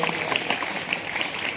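A crowd at a district-level youth parliament competition bursts into loud, dense applause to welcome the school principal, a continuous roar of clapping throughout.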